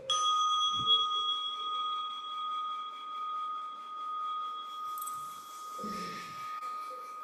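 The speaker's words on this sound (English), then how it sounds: "here's a chime." A struck chime rings out with a clear, sustained metallic tone that decays slowly over several seconds, with faint background rustling and a brief soft voice near the end.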